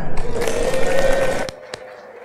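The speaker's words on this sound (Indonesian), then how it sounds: "Tepuk tangan." A church congregation at a confirmation service claps together in a dense, steady burst that stops abruptly, followed by two sharp single claps.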